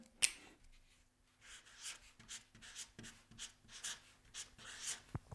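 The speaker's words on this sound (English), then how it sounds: "So let's write sand." Pen or marker writing a short word on a surface, a run of close, quiet scratchy strokes with small pauses between letters in a quiet room.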